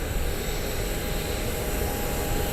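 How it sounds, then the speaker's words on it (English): Jet engines of a Boeing 737 MAX 8 airliner in Southwest's Canyon Blue retro livery at an airport at night, a steady, unbroken roar of moderate loudness lasting throughout, with no voices. "the Colleen Barrett Canyon Blue Retro, 737 MAX 8"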